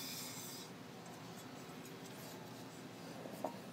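Coarse-grit sandpaper rubs in a figure-eight motion while flattening a part on a Honda CB200T cafe racer build, a faint, steady scratchy rasp close by, with a small knock near the end.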